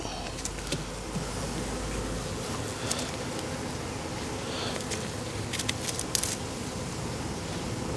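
Honey bees hum steadily around leaning pieces of cut-out hive comb as they clean the honey off, with a close, continuous buzz and a few brief louder passes.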